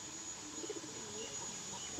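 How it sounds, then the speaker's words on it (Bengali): A white female pigeon coos softly and low in a quiet space, a faint murmuring call under a steady background hiss. "একটা ফ্রেশ সাদা পায়রা"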